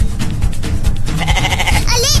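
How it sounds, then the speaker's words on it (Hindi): A goat bleats loudly near the end, a wavering nasal cry rising over noisy background rumble and scuffling, with no clear speech. "ये बकरी की आवाज कहाँ से आ रही है?"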